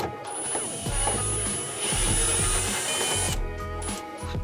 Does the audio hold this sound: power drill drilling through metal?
yes